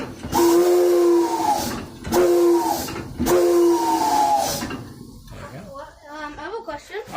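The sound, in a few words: steam locomotive whistle blown at train museum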